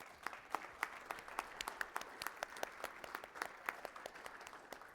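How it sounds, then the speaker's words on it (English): Applause from a conference audience for a panel of speakers on domain-driven design and LLMs, a steady patter of many hands clapping at moderate distance, no voices over it. "how about a big round of applause for all of the speakers?"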